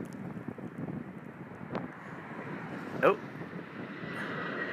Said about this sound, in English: It's going to land. A moment of silence for the landing plane.